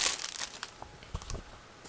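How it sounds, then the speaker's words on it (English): A resealable plastic bag from a Kagero F6F Hellcat model kit is pulled open and handled, giving close crinkling and crackling plastic with a few sharp snaps, with no talking. "this is a resealable plastic bag, so let's open it and take a look at what is actually included here"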